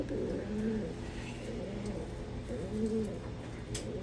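Pigeons or doves cooing softly in a repeated low rhythmic call, close by, over faint background noise.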